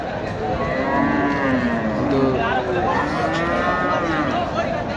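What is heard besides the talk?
cattle mooing at muddy cattle market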